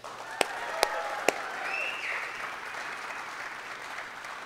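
A church congregation applauds steadily and moderately loud at a one-year anniversary service, the dense clapping sustained throughout with a few sharper claps standing out near the start.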